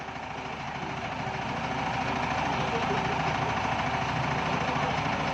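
Vehicle engines idle in a rainy traffic jam, a dense and steady rumbling drone with a faint knock, close and unchanging throughout.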